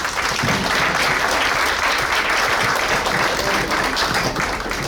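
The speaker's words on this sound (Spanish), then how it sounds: "un aplauso por favor a nuestras invitadas" An audience at a panel discussion on women's roles in native communities gives its guests a full, even round of applause, dense and sustained for the whole stretch with no voices over it.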